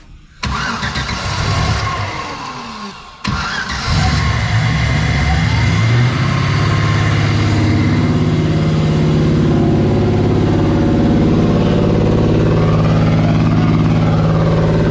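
An LS V8 swapped into an Audi A6 cranks, catches and settles into a loud, steady idle close by, with a brief stumble before the engine holds its rumble.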